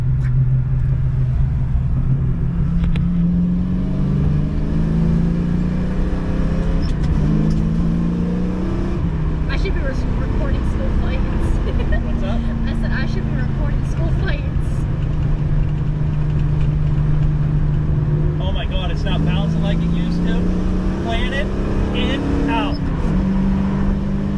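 A car driving over bumpy roads, its engine rumbling steadily and rising and falling with acceleration, heard from inside the cabin as a constant loud drone with faint knocks.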